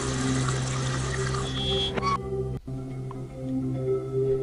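Water running from a drain in the game Buried in Time, a steady rushing and gurgling flow beneath a low machine hum, with a brief clunk midway before the trickle continues more quietly.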